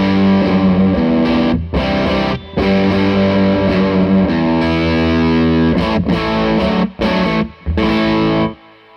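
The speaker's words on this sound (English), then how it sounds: "So here's the shipwreck, which is kind of like an ampy style overdrive from Jellyfish Electronics" Electric guitar through a Jellyfish Electronics Shipwreck ampy overdrive pedal plays loud, gritty, near-fuzz chords with brief gaps between strums, sustained and close, with no talking.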